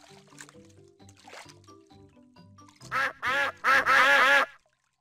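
Cartoon ducks in the Peppa Pig Golden Boots video game let out a run of four loud, nasal quacks near the end, after a stretch of soft watery drips and squishes.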